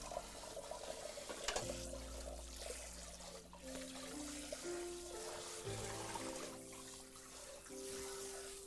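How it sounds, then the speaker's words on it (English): Tap water runs into a sink, rinsing out a mixing bowl in a home kitchen, a steady close splashing trickle with shifting pitch as the bowl fills, no talking. "Let me go ahead and rinse out this bowl."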